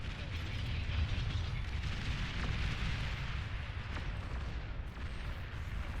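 A dense, continuous rumble of distant explosions fills a Beyond All Reason video game battle, with faint crackling and mechanical clatter blended into a steady, low roar.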